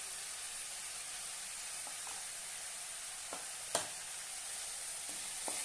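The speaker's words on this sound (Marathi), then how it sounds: "आता आपण छानपैकी परतून घेऊया" Tomato and onion with spices sauté in a pan, giving a steady, quiet sizzle close by. A few faint taps from stirring sound over it.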